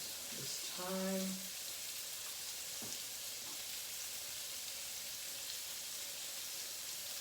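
Onions fry for beef stroganoff under a soft, constant sizzle, faint and distant, with a brief tonal voice-like sound and a couple of light clinks near the start.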